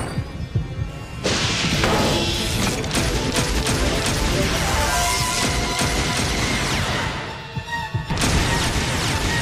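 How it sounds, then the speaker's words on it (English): Rapid, sustained barrage from a laser Gatling gun in the QuestWorld game, a loud continuous stream of crashing, thudding shots that stops briefly near the end and resumes. "Activate laser Gatling gun."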